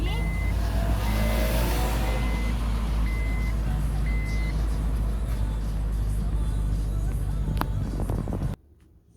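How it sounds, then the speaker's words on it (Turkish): A vehicle reverses to park, its reversing beeps sounding in a regular series of tones over a steady engine hum close by. A voice talks briefly, and the sound cuts off abruptly near the end. "Biz arabayı park edeceğiz oraya."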